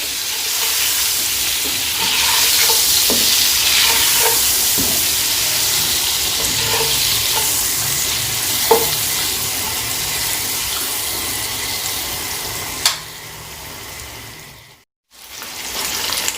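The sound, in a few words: boiled eggs frying in a pan for egg biryani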